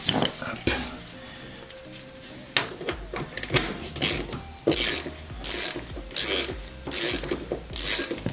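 Ratchet wrench tightening the front wheel axle of a motorcycle, with rapid clicking pawl bursts repeating in a steady rhythm of short loud runs, close by, amid handling noise of metal parts.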